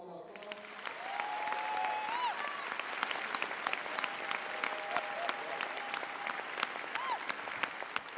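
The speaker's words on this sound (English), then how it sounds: "please give a round of applause for the Trumpet Award, Entrepreneurship honorees, the Williams sisters, and the Bronner broth" A large crowd at the 2014 Trumpet Awards applauds continuously, with steady dense clapping and a few whistles rising above it.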